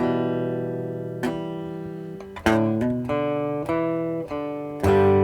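Guitar chords are strummed and left to ring, a few successive chords each decaying before the next, clear and close with no talking.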